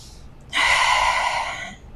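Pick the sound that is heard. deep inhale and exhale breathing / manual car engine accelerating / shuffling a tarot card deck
deep inhale and exhale breathing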